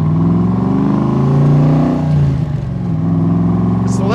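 A 1965 Shelby Cobra Backdraft engine revs loudly and up close, its deep steady rumble rising and falling through a few throttle swells with no one talking.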